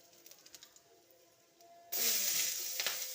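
Mustard seeds and two chillies hit hot oil, starting a sudden loud, bright sizzle after a quiet stretch of faint crackles; the hiss stays strong and close to the end.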